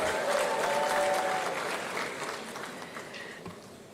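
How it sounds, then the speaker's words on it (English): Steady applause from a crowd at a university graduation ceremony, loud at first and gradually tapering off over a few seconds. "Give her an applause."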